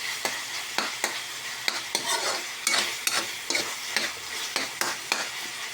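Ground beef sizzles steadily in a pan for Filipino-style spaghetti, with a utensil scraping and clicking against the pan in a regular rhythm of sharp strokes, close and fairly quiet, no voices.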